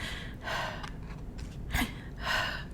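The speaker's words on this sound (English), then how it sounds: "You need to take a breath." Several deep breaths, each a soft airy rush in and out, close and quiet over a low background hum with no talking.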